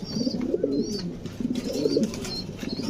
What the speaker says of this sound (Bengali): এগুলো হচ্ছে শৌকিং কবুতর